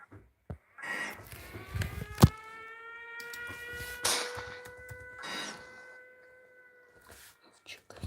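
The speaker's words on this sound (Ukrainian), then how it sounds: "Увага! Повітряна тривога." An air raid siren wails with long steady harmonic tones, rising and holding through the clip, alongside voices and scattered clatter.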